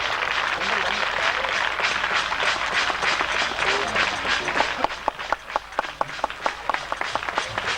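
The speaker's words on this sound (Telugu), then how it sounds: "అందరూ చప్పట్లు పట్టండి. ఆనందంగా సంతోషంగా." Audience clapping to welcome guests at a church gathering, a crowd of steady applause settling into sharper rhythmic claps toward the end, with a voice speaking over it.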